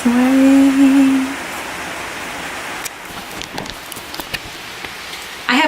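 Rain falls as a steady, even hiss of drops throughout, with a singing voice briefly rising over it at the start before the downpour carries on alone.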